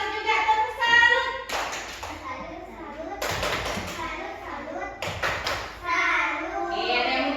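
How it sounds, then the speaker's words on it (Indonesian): Schoolchildren in a classroom clap for a group, breaking into several short bursts of rhythmic clapping between stretches of children's voices and chatter, fairly close and lively. "beri tepuk tangan untuk kelompok cerdas"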